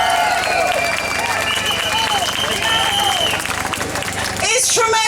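A large crowd at a Stop the War Coalition emergency protest against an attack on Syria claps and cheers to welcome convener Lindsay German, in loud sustained applause outdoors with scattered voices mixed in.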